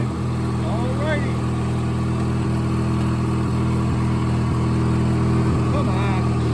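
Craftsman II lawn tractor engine idling steadily while warming up, a constant close mid-pitched drone throughout with faint talk in the background.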